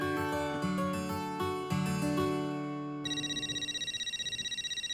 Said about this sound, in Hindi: हाथी भाई का फोन है।